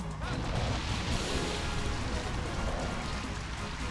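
Steady rain weather effect from the Pokemon Colosseum video game, a dense, even hiss of falling rain with scattered heavier splats that holds at constant loudness throughout.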